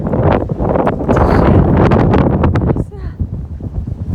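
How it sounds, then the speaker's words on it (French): Strong wind buffets the microphone in loud, rumbling gusts that suddenly ease near the end, with a voice briefly audible. "Il y a un vent de malade."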